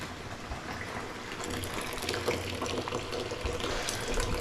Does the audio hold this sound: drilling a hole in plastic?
no